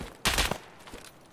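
A pair of video-game gunshots fire in quick succession, a loud close burst followed by a fainter shot, with no talk over them.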